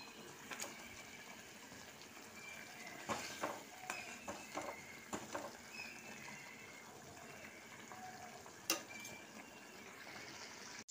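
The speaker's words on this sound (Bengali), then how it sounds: "ঝোলটা ফুটছে" Stuffed pomfret fish curry gravy bubbles in a pan with a quiet, steady simmer, broken by occasional clinks and stirring sounds.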